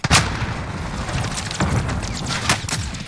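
Gunfire and explosions in a multiplayer shooter: a sharp blast opens, then a dense, loud mix of booms and cracking shots continues with repeated hits and a strong burst near the end.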